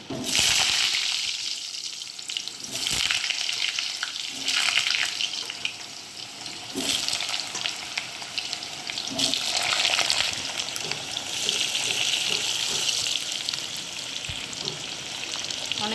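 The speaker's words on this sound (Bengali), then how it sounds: "অনেকেই হলুদ দেয় না আলু ভাজায় আমি দিই" Potatoes with turmeric fry in a pan, a broad steady sizzle that swells and eases in waves, with a running-water-like wash and a few soft knocks, close and unbroken by talk.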